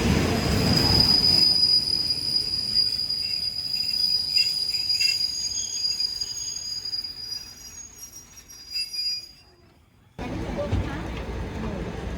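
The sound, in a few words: local train 446 slowly moving off, wheels squealing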